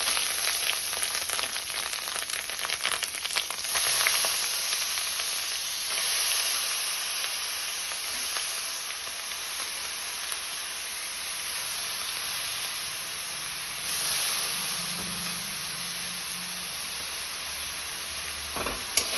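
Salted, turmeric-rubbed ash gourd, squeezed of its water, drops into a hot pan and sizzles loudly, then settles into a steady frying hiss with faint stirring scrapes throughout; no talking.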